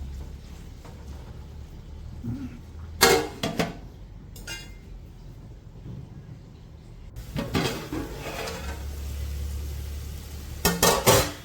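A spoon scrapes and clanks in a pan of tomatoes and onions, with a few loud bursts of metal-on-pan stirring separated by quieter stretches of soft sizzling and low background hum.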